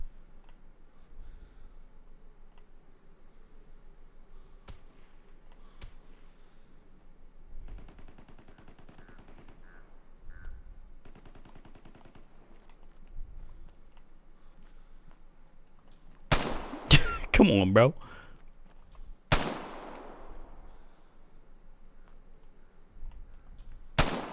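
Gunshots from a weapon in the video game Vigor, a quiet stretch of faint clicks and movement broken by a quick cluster of loud sharp shots, then a lone shot and a last one at the end.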